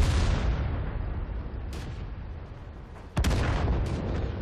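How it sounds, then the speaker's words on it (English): An artillery shell strikes an allied tank in a World of Tanks medium tank match: one sharp, loud impact over a steady rumbling engine drone. "one of our artillery units killed an ally because he went close to the enemy"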